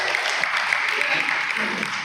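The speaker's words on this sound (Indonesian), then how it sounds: "tepuk tangan buat Bapak yang berbahagia" An audience at a mosque committee gathering and training session claps for a man, a moderate continuous ripple of hand claps with a faint voice murmuring underneath.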